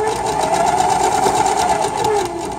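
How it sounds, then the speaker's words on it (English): Sewing machine stitching along a fabric seam with the presser foot lowered, a steady, fast, close mechanical whirring hum running continuously for a few seconds with no talking. "We'll lower the needle into the seam, lower the presser foot. We're going to remember to backstitch."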